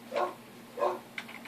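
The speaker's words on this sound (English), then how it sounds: "And a dog barking in the background" A dog barks twice at a distance, two short muffled woofs about half a second apart, followed by a fainter yip, behind a steady electrical hum from CRT TV equipment.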